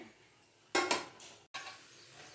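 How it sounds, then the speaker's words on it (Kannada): A metal plate clatters onto an egg bhurji pan on the stove, a sharp double clink followed by a softer knock and faint background hiss, quiet and close. "ಇನ್ನೊಂದು ಎರಡು ನಿಮಿಷ ಪ್ಲೇಟ್ ಮುಚ್ಚಿಡ್ತಿದ್ದೀನಿ"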